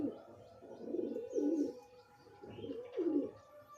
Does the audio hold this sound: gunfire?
no